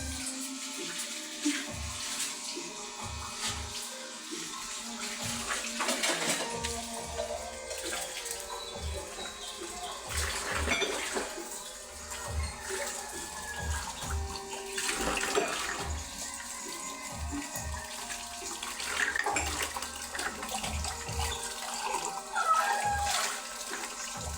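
Plates are washed under a running tap. The water streams steadily and close by while dishes clink and clatter in uneven bursts throughout, and faint birdsong sits in the background.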